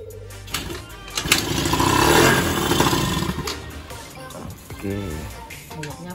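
A Sanex 50cc motorcycle engine under restoration cranks and catches, then runs with a rough, uneven putter that swells and fades over several seconds, heard up close with no talking.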